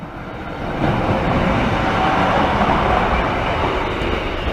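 A British Rail Class 143 train passes Great Northern Terrace level crossing: a steady, broad rumble builds within the first second and holds close and loud to the end, with no talk.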